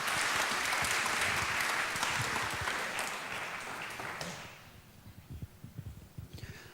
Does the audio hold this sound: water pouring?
no